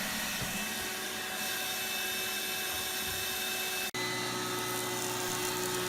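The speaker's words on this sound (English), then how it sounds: "we always joint one edge first and then rip the opposing side on the table saw to end up with a parallel cut" A table saw ripping a walnut board, a sustained whining blade drone with strong steady tones, briefly cutting out for a moment before the loud motor hum resumes up close.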